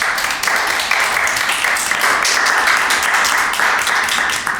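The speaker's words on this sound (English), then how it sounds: "let's give them all a round of applause" An audience breaks into sustained applause, a dense, even wash of many hands clapping that holds steady for several seconds with no talk standing out.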